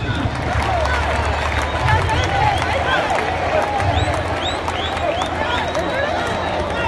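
At a bullfighting recortes contest in Valencia, a large crowd claps and cheers in a dense, continuous wash, with murmuring voices and calls mixed in.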